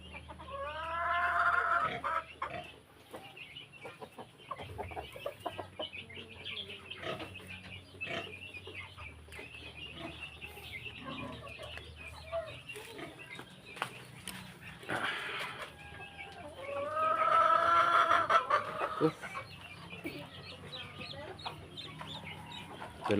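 Native chickens cluck and crow on a farm, with bursts of louder clucking near the start and again later over steady barnyard background noise and faint voices.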